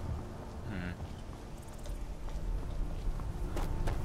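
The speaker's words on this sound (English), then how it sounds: "Just a storm brewing." A rainstorm brewing in the video game Skyrim, with a continuous wash of rain and low rumbling thunder, a few faint clip-clop taps and soft chirps, and no talk.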